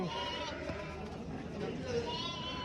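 Sheep bleat now and then at a busy Turkish livestock market, set among dense crowd noise and ongoing talk, with the calls partly masked by the surrounding voices.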